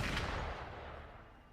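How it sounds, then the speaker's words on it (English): Gunfire in the video game Wuthering Waves, a short burst of booming shots at the start that fades into a lingering rumble. The sound is fairly quiet. "Gunfire!"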